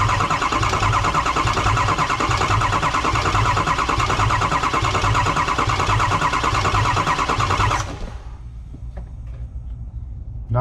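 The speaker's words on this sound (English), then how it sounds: "I will bump the starter over and we'll see if we get oil coming up out of there" A Ford Super Duty engine is turned over by its starter, a steady loud mechanical churn that runs for about eight seconds and then cuts off, leaving faint ticks and near-silence.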